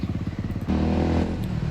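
Motorcycle on an off-road track, its engine chugging in a fast steady pulse before surging into a louder, smoother roar as it pulls ahead, close and continuous throughout.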